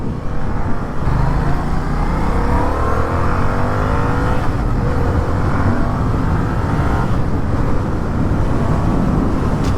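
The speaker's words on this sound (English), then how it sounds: "this FZ-07 accelerates like no tomorrow." A Yamaha FZ-07 motorcycle accelerating on the road, with a loud, continuous engine roar rising in pitch over wind noise and no voices.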